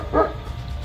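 A dog gives one short, loud bark close by, followed by a low background rumble and no further barking.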